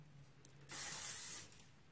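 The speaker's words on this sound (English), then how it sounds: "like to put a little bit of hairspray throughout my hair. I usually use a firm hold hairspray." Firm hold hairspray sprayed onto hair, a single close hissing burst lasting under a second, preceded and followed by a couple of faint clicks in a quiet room.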